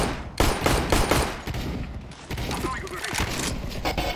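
Rapid bursts of automatic gunfire and single shots sound loud and close in a shooter video game, crackling in quick clusters with players' voices mixed in.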